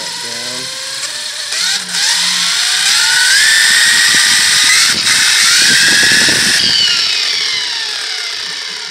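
An electric RC dragster motor driven by a 200 amp ESC, not yet fully secured, spins up into a loud, rising electric whine that holds steady for several seconds before easing off slightly.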